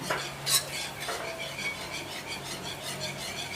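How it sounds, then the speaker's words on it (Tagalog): A spoon stirs mango-flavoured condensed milk into a gelatin cake mixture in a bowl, with soft scraping and a few light clinks of utensil against the dish, close and fairly quiet. "Tapos haluin natin."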